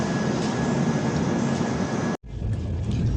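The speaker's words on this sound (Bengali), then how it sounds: "ট্রেন ছেড়ে দিয়েছে" A passenger train departs in a steady, loud rolling rumble that briefly cuts out for a moment before resuming, with no voices over it.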